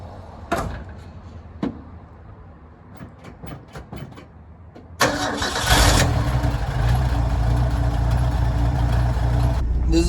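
An old junkyard Ford F100 pickup with a three-on-the-tree manual gearbox cranks and fires up midway, then runs loud and steady, after a few door and cabin clunks in the quieter first half.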